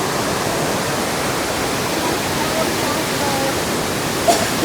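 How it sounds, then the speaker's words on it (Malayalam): The second fall of a waterfall in Meghalaya roars as a steady, dense rush of close water. "ഇതാണ് ഈ കണ്ടുകൊണ്ടിരിക്കുന്നതാണ് സെക്കൻഡ് വാട്ടർഫാൾസ് കേട്ടോ."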